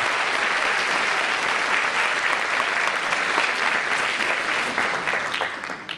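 Eighth grade students clap and cheer together in a dense, sustained burst of applause from a sizeable group, steady throughout before tapering slightly at the end.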